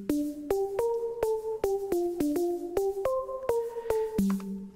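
Synth lead squashed by an OTT multiband compressor, playing a rhythmic melodic line of short notes with a dense, bright, hissy fizz filling the gaps, sustained and alone at moderate volume.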